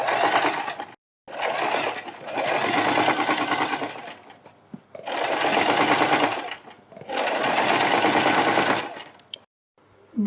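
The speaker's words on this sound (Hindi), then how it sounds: "हम बुकरम के बिल्कुल बराबर में पूरे गले के ऊपर सिलाई लगाएंगे" A sewing machine stitches around a kurti neckline right along the buckram, running in four long, steady bursts of rapid whirring stitching with short pauses between them, close and clear with no talking.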